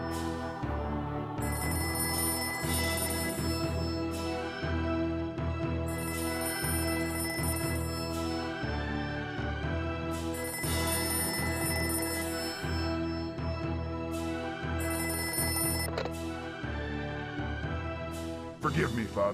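A phone booth rings in Skyward Sword HD, sounding as a steady repeating telephone bell pattern with short regular pauses, loud and continuous throughout, while a voice talks over it.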